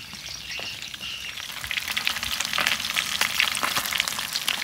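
Snakehead fish deep-frying in hot oil, a steady dense sizzle and crackle with scattered pops, close and continuous, growing slightly louder, no voices.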